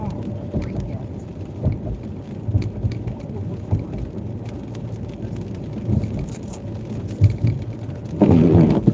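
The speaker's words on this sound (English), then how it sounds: "Been raining all day." Steady rain falls with low rumbles of thunder rolling beneath it, a dense continuous wash that swells louder near the end.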